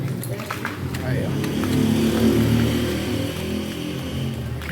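A 51-year-old 1971 Ford Corcel's engine runs close by with a steady low rumble that swells slightly as it revs and then settles, while people talk over it.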